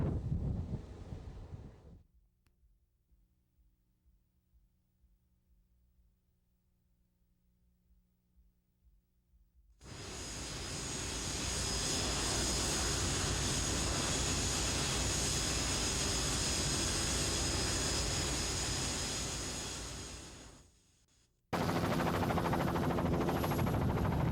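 Strong wind roaring inside a man-made tornado, a loud broadband rush that surges in after a quiet lull, holds for about ten seconds, cuts briefly and returns at full force.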